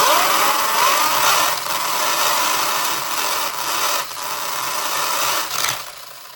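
An Arrma Limitless GT RC car's motor runs on a workbench with a steady, loud whirring drone that wavers slightly in pitch, with brief dips near the end.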